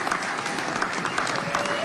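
Crowd applause with scattered cheers during a political gathering, a continuous wash of clapping at moderate loudness throughout the short stretch.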